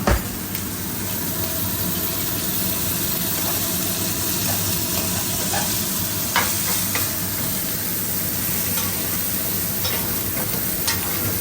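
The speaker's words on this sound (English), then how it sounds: "I'm going to throw my butter in." Steak frying in butter in a pan while a spoon bastes it, a steady, close, loud sizzle running throughout with occasional faint scrapes and clicks, no talking.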